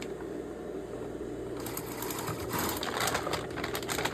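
A sewing machine stitches across the straps of a grocery bag made from a recycled pet food bag. The whirring starts quietly, then rises to a fast, close, rhythmic run of stitching.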